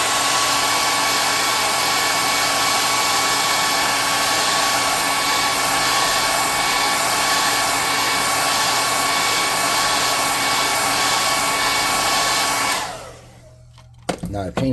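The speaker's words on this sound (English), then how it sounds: "I'm trying to dry my paint on my hand a little bit so I don't get my new air gun all painted up." A new air gun blows a loud, steady rush of air to dry paint on a hand while building a custom tabletop boss room, running continuously before cutting off near the end with a few small clicks.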